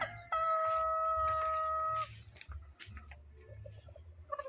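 A rooster crows loudly and close by, one long call sustained for about two seconds, then a few softer clucks and faint calls follow over a low background rumble.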